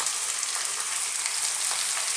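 Tomatoes dropped into a hot frying pan of Indian dal, a loud, dense, continuous sizzle and spatter close up with no voices.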